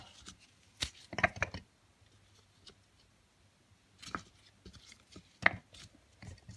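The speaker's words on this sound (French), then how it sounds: "je vais découper un tout petit peu les gingembres" Fresh ginger being chopped with a knife on a board: a few quick clusters of sharp, close blade taps separated by quiet pauses.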